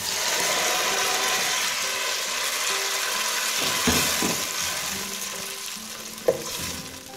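Tomato paste goes into onion and garlic frying in a pan, giving a low, continuous sizzle with a few scraping stirs and a sharp clink near the end.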